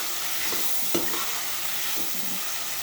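Spices and turmeric being stirred into a taro root curry in a hot pan, producing a dense continuous sizzle with faint scraping strokes, close and fairly loud, with no voices.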